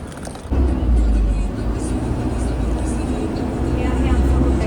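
A bus engine idles and rumbles in Medina, producing a steady, loud, low drone with a little road and traffic noise mixed in. The sound is close and continuous throughout.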